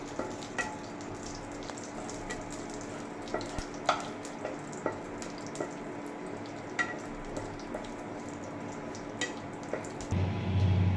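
Cumin and dried chilli frying in mustard oil in a wok: a soft, continuous sizzle broken by scattered small pops and crackles, with a louder burst of frying at the very end.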